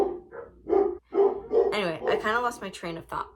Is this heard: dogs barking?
yes